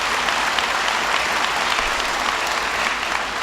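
Loud, dense applause from a political rally audience in Nevada, an unbroken roar of many clapping hands close by and even throughout.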